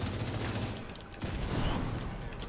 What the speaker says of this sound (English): Sniper turret, watch out.